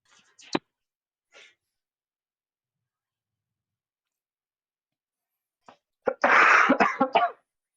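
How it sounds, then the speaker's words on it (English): Someone coughs in a short, harsh cluster of rapid bursts, close and loud, after a few faint small noises separated by silence. "Oh, I hate my cough."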